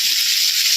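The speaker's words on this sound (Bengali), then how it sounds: "ডিমটা ভাজা হচ্ছে, ডিমটা ভাজা চলছে, দেখতেই পাচ্ছি।" An egg fries in a pan with a loud, close, continuous sizzle and crackle of hot oil, heard alone without talk.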